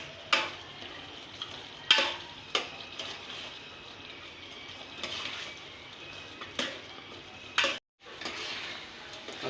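A spoon stirs and scrapes keema masala as it roasts in a pan. Intermittent soft scrapes and clicks sound over a faint, quiet sizzle.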